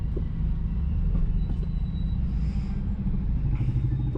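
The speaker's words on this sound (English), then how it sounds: "The car is idling perfectly." A car engine idles smoothly and steadily, a continuous low rumble that stays even and fairly loud from start to finish with no talking over it.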